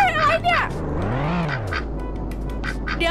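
Quacking from a duck-shaped motorbike vehicle in the Sakura School Simulator game, a few nasal quacks and a rising-falling toy-like call, with someone talking over it.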